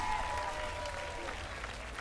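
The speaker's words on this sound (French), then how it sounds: "Des applaudissements pour le groupe Arioka." Crowd applause for the carnival group Arioka at the grand parade in Basse-Terre, Guadeloupe, a faint, distant wash of clapping and crowd noise holding steady through the brief moment.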